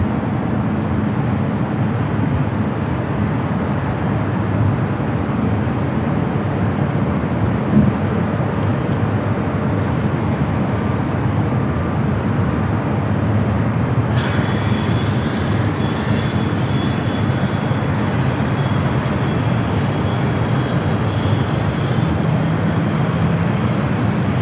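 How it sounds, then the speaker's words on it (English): Airliner arriving at Los Angeles International Airport on flight 281 from London Heathrow, a steady broadband engine roar that persists throughout, with a faint high whine joining partway through. "Flight 281, the second flight of the day, coming up from London Heathrow."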